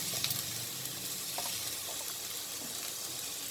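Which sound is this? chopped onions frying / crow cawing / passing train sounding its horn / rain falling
chopped onions frying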